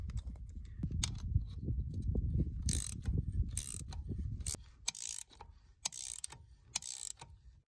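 Rethreading tool chasing fine 1/2-inch threads on a wheel lug, giving a run of close, loud metallic ratcheting clicks and scraping over a low rumble, with sharp bright bursts in the latter half.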